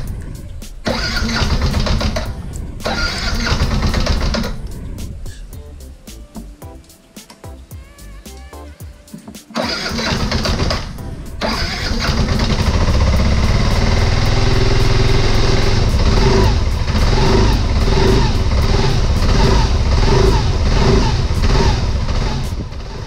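A Yamaha NMAX scooter, tested after a tensioner replacement and throttle body service, cranks loudly in short bursts with gaps. It then catches and keeps running, its engine revving up and down close by.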